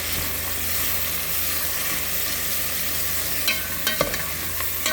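Carrots and beans sauté in a pan for pancit canton, a steady broadband sizzle with a few sharper clicks of a utensil near the end, close and alone without talk.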